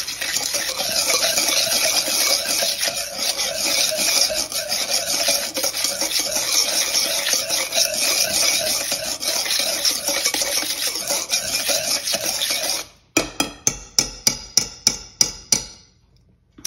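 Melted butter is whisked in a bowl for low carb lemon blueberry muffins, giving a long steady scraping stir, then a quick series of about eight sharp taps of the utensil against the bowl's rim.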